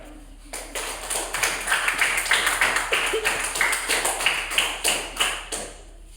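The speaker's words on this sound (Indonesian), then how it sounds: "Berikan tepuk tangan untuk mereka." A classroom of students applauds a presenting group at a teacher-training session, with steady rapid clapping from many hands filling the room for several seconds after a short pause.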